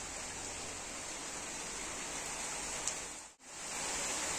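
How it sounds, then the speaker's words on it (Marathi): Rain pours outdoors at a village home in a steady, dense wash of hiss that is briefly cut off near the end before resuming, with no talking. "पाऊस चालू झालं."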